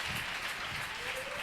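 A church congregation applauds and acclaims the Lord during a Friday evening service with pastor Leo Munanga, giving steady, distant clapping and crowd noise at low volume, with a voice faintly present.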